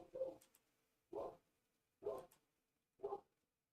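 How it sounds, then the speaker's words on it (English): A dog barks four times in the background, about once per second, each bark short and sharp, the sound faint and distant with quiet gaps between. "until this dog shuts up, I'm gonna mute myself."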